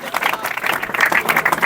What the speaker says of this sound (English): Have a thunder round of applause for Kamran.